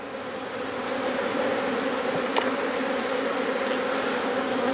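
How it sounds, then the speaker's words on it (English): Honey bees shaken off frames into a box make a dense, steady buzzing hum that swells in the first second and holds loud and continuous, with a faint tap partway through. "we can continue to shake bees off"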